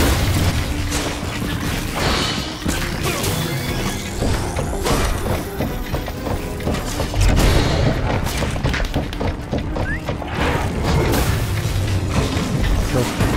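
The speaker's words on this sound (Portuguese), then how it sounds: "Não esperava que isso fosse explodir." Explosion in Minecraft Dungeons during a Redstone Monstrosity boss fight: deep booms and crashing thuds roll through a dense, continuous din of game noise.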